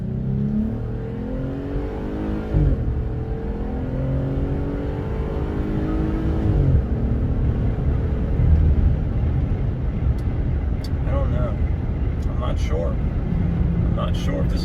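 A car engine revs and accelerates hard in race mode with a HIKE IT throttle controller fitted, loud and close from inside the cabin, rising in pitch through two gear changes, then a steadier drone with faint clicks.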